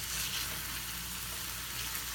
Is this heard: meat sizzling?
yes